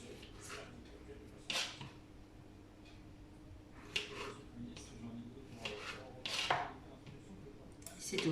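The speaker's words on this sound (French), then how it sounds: "c'est un super couteau qui vous permet de couper vos tomates sans les écraser" A tomato knife slicing through fresh tomatoes in a home kitchen, several separate cuts landing unevenly against a board at close range, with faint background noise between strokes.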